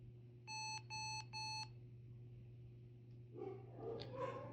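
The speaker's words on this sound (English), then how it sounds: "We should hear a beep from the CMOS battery." Three short electronic beeps in a quick even row from a ThinkPad T440p laptop starting up, followed by quieter clattering and shuffling, all over a steady low hum.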